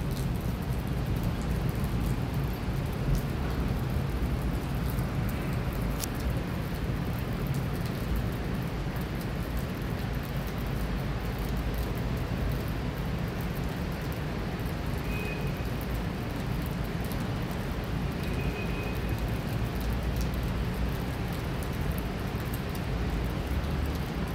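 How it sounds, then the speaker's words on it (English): Steady rain falls continuously on a rainy day, a dense even hiss of drops with a low rumbling undertone like distant thunder, unbroken and without voices throughout. "It's already, the thunder is coming."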